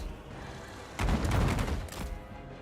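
Crane gunners open fire in a Total War Warhammer III battle, a sudden burst of overlapping crackling gunshots that rumbles for about a second and then fades into distant battle noise.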